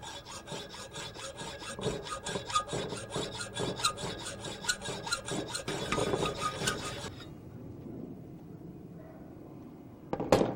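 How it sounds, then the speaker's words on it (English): A hacksaw cuts through a square steel bar with steady, rhythmic back-and-forth strokes that run for about seven seconds. The rasping stops abruptly, and a brief clatter follows near the end. "A lot of people tend to overdo it when cutting with a hacksaw."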